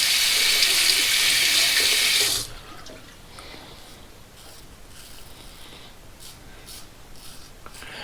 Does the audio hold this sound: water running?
yes